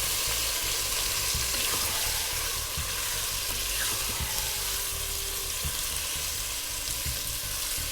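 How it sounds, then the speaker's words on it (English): Fish stew ingredients sauté over high heat in a pan for a Northern Italian dish, giving a steady, close sizzle with occasional stirring clicks throughout. "we're going to saute a little bit"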